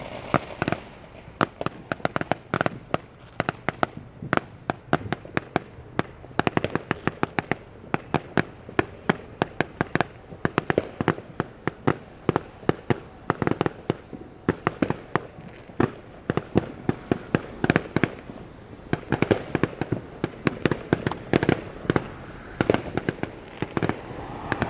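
Fireworks bursting close to the ground at a show, a long rapid string of sharp cracks and bangs firing in irregular clusters, loud and continuous with barely any gap.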